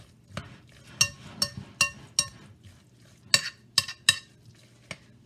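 Ground meat being mixed with eggs in a bowl, with a series of sharp clinks and scrapes of utensil against the bowl at an uneven rhythm, close and fairly quiet between strokes.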